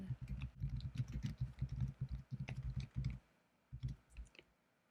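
Faint, close computer keyboard tapping in uneven bursts of soft clicks, with brief pauses between runs and no talking.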